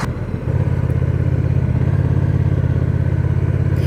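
Honda Rebel 1100 motorcycle engine running steadily at a low, even rumble after a brief quieter start, loud and close with no talk over it.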